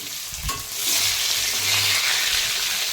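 Steady, loud sizzling of fish frying in hot oil, with a light clatter of stirring near the start.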